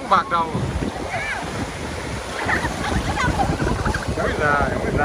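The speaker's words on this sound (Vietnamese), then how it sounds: "Những con sóng bạc đầu." Large whitecapped sea waves break and wash continuously on a beach at Cồn Đen, Thái Bình, a loud, broad roar mixed with wind buffeting the microphone and people talking nearby.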